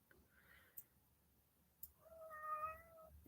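Indoor cats meow close by, first a short, soft mew, then a longer, louder drawn-out meow near the end, with a couple of small clicks between them and no speech.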